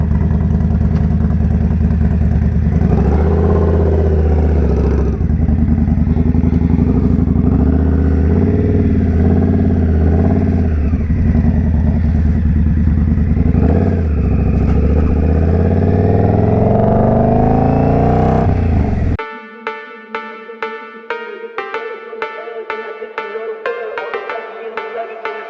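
A motorcycle sets off at the start of a long-distance Iron Butt ride out toward Quebec, its engine roaring steadily and close for about nineteen seconds before cutting off abruptly, followed by a run of short, evenly spaced tonal pulses.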